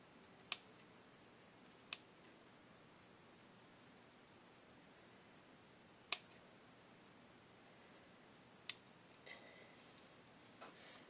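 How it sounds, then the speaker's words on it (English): Small scissors snip pineapple weed flower heads off their stems, a few faint, crisp clicks spaced a couple of seconds apart in a quiet room. "I just want the flower part, so I'm just going to snip off."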